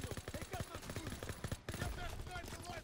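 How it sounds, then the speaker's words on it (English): Rapid automatic gunfire in a World War II shooter game, Call of Duty WW2, with a dense run of repeated shots heard under talk. "Everyone open fire."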